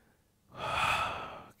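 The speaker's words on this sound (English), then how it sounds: "You hear me breathing?" A single heavy, breathy exhale during a seated no-equipment workout for seniors, close and fairly loud, rising after a quiet moment and holding for about a second before trailing off.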